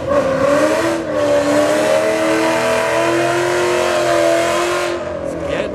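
A car revving hard and drifting at St Thomas Raceway Park during a no-club takeover, its loud engine sustained and close with rising, wavering pitch, then cutting off near the end.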